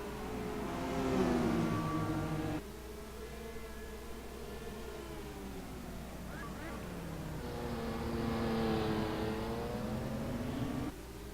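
Indy cars in the Castrol GTX Indy Car Series get the green flag on the Sonoma road course. Their engines make a loud, layered whine that climbs in pitch, surging twice across the field.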